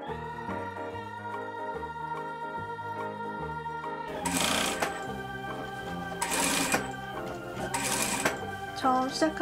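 A sewing machine stitches a fur cushion in a steady, fast mechanical chatter that runs throughout, growing louder and busier with bursts of higher clatter in the second half.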